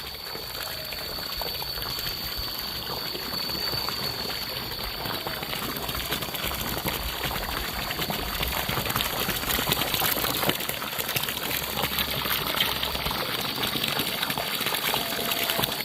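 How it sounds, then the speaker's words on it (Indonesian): Water rushes continuously in a stream below a hillside village, making a steady broadband hiss with a faint high whine throughout and no voices. "Aliran airnya sobat."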